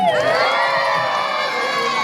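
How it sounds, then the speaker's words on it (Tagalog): Pageant audience cheering and shouting, loud sustained high-pitched screams and whoops from many voices, close and continuous. "wala rin mo bang hiyawan dyan?"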